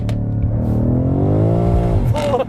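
BMW M5 Competition exhaust revs hard, a loud rising engine note climbing and then dropping off sharply over a couple of seconds.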